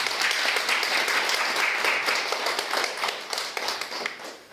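A church congregation applauds during a sixth-anniversary worship service and concert in Busan, a dense, steady clapping that fills the room and fades slightly toward the end.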